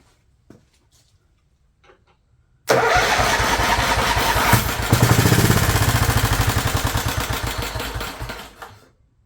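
A neglected Scotts/John Deere 20 HP lawn tractor engine cranks loudly with a fast chugging rhythm for several seconds, nearly catching before dying away, following a few faint knocks in near silence.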